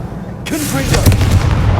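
A Confringo fire spell in Hogwarts Legacy erupts as a sudden loud blast with crackling, booming bursts that roll on for over a second.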